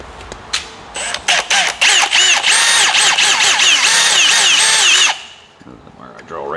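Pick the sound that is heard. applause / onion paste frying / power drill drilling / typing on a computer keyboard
power drill drilling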